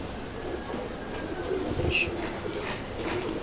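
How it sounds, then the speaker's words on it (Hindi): Ferozpuri pigeons coo softly in a loft, a few low murmuring calls set against steady background noise with brief chirps. "ये जी सफ़ेद आंख के कबूतर हैं, सही, लेकिन है ये भी फिरोजपुरी कबूतर ही"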